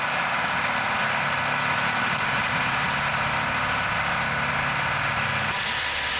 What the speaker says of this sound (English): There's a backhoe here.